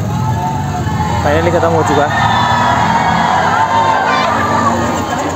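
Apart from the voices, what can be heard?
crowd of fans surrounding a car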